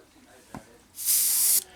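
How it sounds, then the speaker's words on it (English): An airbrush sprays paint on a Sandcrawler scale model. A brief click comes first, then a steady, bright hiss of air and paint that lasts about half a second close to the mic before stopping abruptly. "all I'm doing is kind of getting rid of the initial blurb of spray"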